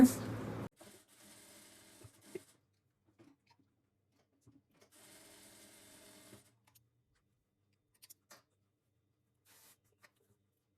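A sewing machine runs in short stitching bursts while pant pieces are joined, with quiet pauses and small mechanical clicks between the runs.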